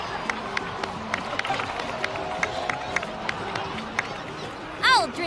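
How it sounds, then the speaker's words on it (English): A crowd in a Genshin Impact cutscene breaks into scattered applause and cheering, clapping heard as a moderate, uneven patter at some distance, with a voice briefly rising at the end. "please give another round of applause for them"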